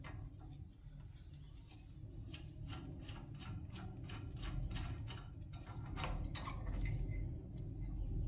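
Ratchet wrench loosening a half-inch bolt on a DR field mower during disassembly, a quick series of faint clicking pawl ticks over low background rumble, with no talk.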